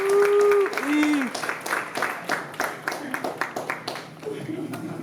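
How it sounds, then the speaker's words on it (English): Applause at a 2024 awards ceremony greets a finalist, opening under a loud voice and then settling into scattered, fairly close clapping from the audience for a few seconds. "give a round of applause to our other finalist, Erica"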